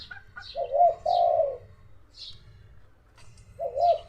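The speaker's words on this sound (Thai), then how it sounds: "ตัวนี้อยู่ใกล้อยู่ใกล้ผมนอนครับ กำลังคลึกเลยกำลังคลึกกำลังขันครับ" A dove (nok khao) coos close by in a few rolling, throaty phrases separated by pauses, with faint higher chirps from other birds in the background.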